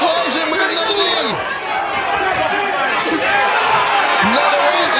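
A crowd at a live fight event in London roaring and cheering continuously, a dense loud wash of voices with excited shouts rising above it, and a commentator talking over the noise.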